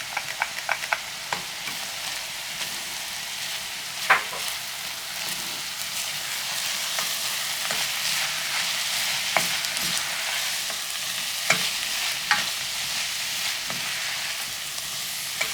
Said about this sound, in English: I'm going to add the ginger and cook for around 2 minutes.